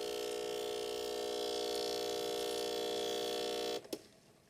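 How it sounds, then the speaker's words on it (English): A Breville Barista Express espresso machine runs its cleaning cycle, its pump droning in a steady tonal hum with water flowing, then cutting off abruptly near the end with a couple of soft clunks. "the machine is now running the cleaning cycle"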